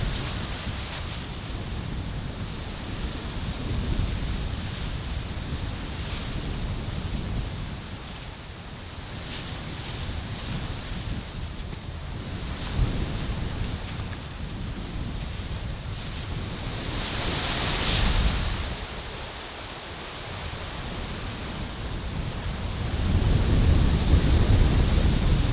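Freezing wind storm gusting across an exposed campsite in about -17°C windchill, a loud continuous roar of rushing air and mic buffeting that swells and eases in waves, strongest near the end, with no voices.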